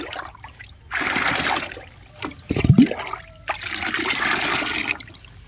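Papaya fruit solution pours from a container into a bucket in two steady splashing streams, separated by a brief gap with a small clatter, close and fairly loud, with no talking.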